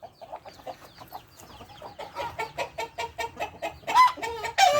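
Chickens cluck in a steady run of short calls that grow louder and busier, ending in a couple of strident squawks nearby.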